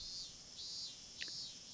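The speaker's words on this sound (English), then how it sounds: "The sound of cicadas soaked into his body." Cicadas drone steadily in a summer setting, a continuous buzzing chorus that stays fairly faint and even throughout, with one brief sharper click near the end and no voices.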